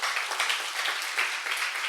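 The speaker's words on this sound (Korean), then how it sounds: "우리 주님께 영광의 박수 올려드리겠습니다" Steady applause from a church congregation during a sermon: dense, continuous clapping at an even level from start to finish.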